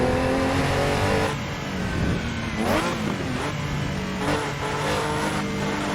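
A race car's engine drones steadily and loudly while driving a twisty canyon road with oncoming traffic in Assetto Corsa's LA Canyons mod, its pitch rising and falling with repeated revs and gear changes.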